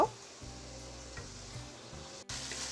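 Shrimp and spice paste fry in oil in a pan, a steady soft sizzle with faint stirring scrapes, heard close and quietly throughout.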